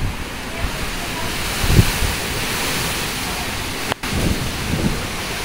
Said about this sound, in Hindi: बारिश भी हो रही, देखी बहुत तेज तेज हो रही बारिश।